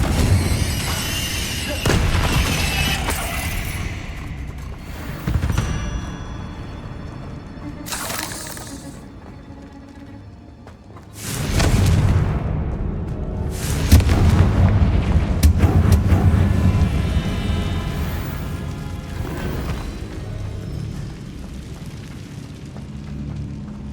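Fiery Confringo spell blasts from the Hogwarts Legacy video game, several loud booming explosions bursting at irregular intervals with crackling debris and rumbling tails, some clustered close together.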